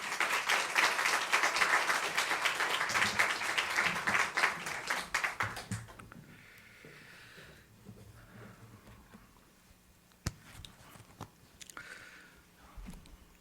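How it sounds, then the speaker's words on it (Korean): Audience applause welcoming a pastor at an evening church staff dedication service: a dense, loud burst of clapping for about six seconds, then fading into a quiet room with scattered small knocks. "우리 그런 마음으로 박수로 모시도록 하겠습니다."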